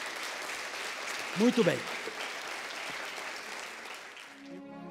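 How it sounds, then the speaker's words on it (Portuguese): Church congregation applauding at the close of a sermon, a steady wash of clapping filling the room with a brief spoken voice rising over it before the applause thins out. "Você pode aplaudir a Jesus, ó."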